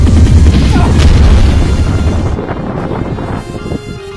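The cannon of the Gustav Max card fires as an animated Yu-Gi-Oh effect, one loud deep boom that rumbles and then slowly decays over several seconds into quiet.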